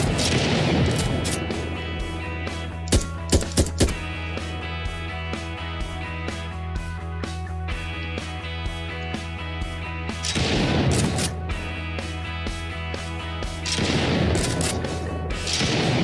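Gunfire in an Unreal Engine 4 third-person shooter game test: a quick cluster of sharp shots near the start, then a few heavier bursts later over a steady droning game background, no talking.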